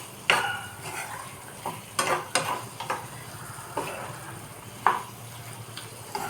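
Masala frying in a pan over high flame while being stirred, sizzling continuously under a series of sharp scrapes and clinks of the spoon against the pan.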